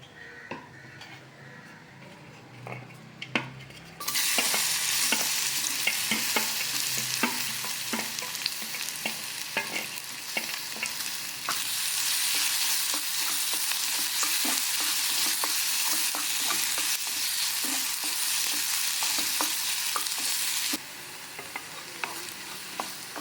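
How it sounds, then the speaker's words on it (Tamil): Banana sizzles steadily in ghee in a hot pan while a utensil stirs and scrapes with frequent clinks, the frying loud and continuous. "கொஞ்சமாக நெய் சேர்த்துக்கிட்டு இந்த வாழைப்பத்தை வதக்கிட்டு கொண்டு தான்"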